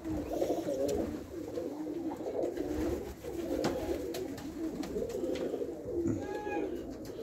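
Racing pigeons back from a flight coo in a loft, a steady low, throaty murmur of overlapping calls close by, with a few higher chirps near the end.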